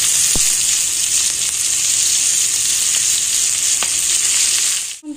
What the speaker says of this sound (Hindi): एबे मु प्याज पकेदेबी।